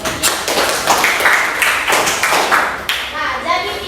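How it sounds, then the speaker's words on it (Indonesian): Classroom applause: a group of students claps loudly and unevenly for a few seconds, building into a dense burst before fading into scattered claps, with young voices mixed in. "Beri aplaus untuk"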